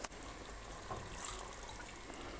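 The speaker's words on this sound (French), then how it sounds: "Et je vais rajouter quand même un peu d'eau." Water poured into a pot of meat broth with okra, a steady, soft liquid rush running continuously at moderate loudness with no voices.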